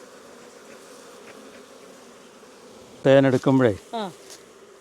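Honey bees buzz around a wooden beehive box in a low, steady drone for about three seconds, then a voice talks briefly over the hum.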